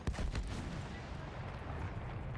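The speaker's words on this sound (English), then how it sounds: "When the tension of battle is at its highest, all you hear is the blast of artillery" Artillery blasts in the World War I shooter Battlefield 1, a deep booming impact up front followed by rumbling distant fire and low battle noise, fairly quiet overall.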